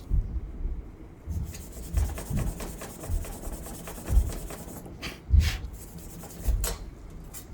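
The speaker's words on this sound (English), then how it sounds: "if it's a metal and I polish off that rust," Rust being polished off a piece of iron, a rough rubbing scrape repeating in uneven strokes, fairly close and moderately loud with no voices.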